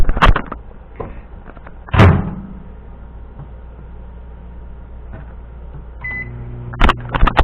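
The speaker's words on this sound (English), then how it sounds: "I'm going to put this back in the microwave and see if it keeps expanding after it's gone down." A microwave oven heats a bar of Ivory soap with a steady low hum, broken by a few door clunks and clicks and a short beep near the end.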